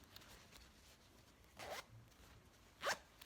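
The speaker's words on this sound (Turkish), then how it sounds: "Bu fermuarım." A metal zipper on a skirt is pulled in two short, quiet zips, the second sharper and louder, against a near-silent room with no talk.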